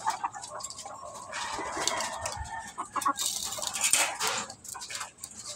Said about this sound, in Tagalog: Marami ang ating inahin ngayon.